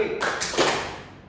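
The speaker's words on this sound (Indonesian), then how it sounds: "Tepuk 2 kali." A single person claps hands in a short burst, sharp close slaps in quick succession, fairly loud, with the sound ringing off briefly afterward.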